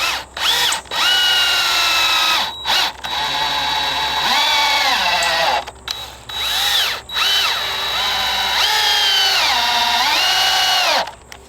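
A power drill drives screws into wooden beams for a survival base build, whining loudly through several long runs with rising and falling motor pitch and short pauses between bursts, close up and with no talk.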